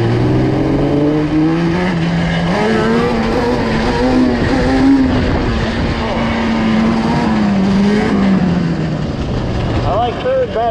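A Yamaha Banshee ATV engine runs in third gear, a loud close two-stroke drone that holds a steady pitch, shifts upward, and then falls away near the end.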